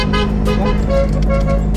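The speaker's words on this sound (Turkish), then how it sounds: "aslında öndeki arabaya korna çalıyor." A car horn honks in traffic at a car ahead. Short, close toots rise over a steady engine and road rumble, with brief voices in the background.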